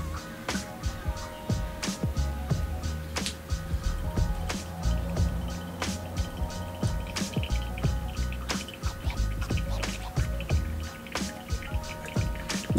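Water poured slowly over ground coffee in a Chemex, a faint trickle and intermittent drips under quiet background hum, with soft clinks throughout.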